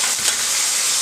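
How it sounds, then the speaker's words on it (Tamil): Chopped onions and tomatoes sauté in hot oil for a Thanjavur mutton drumstick curry, giving a steady, close, bright sizzling hiss throughout with no voices. "எல்லாத்தையும் சேர்த்துட்டு நல்லா வதக்கலாம்."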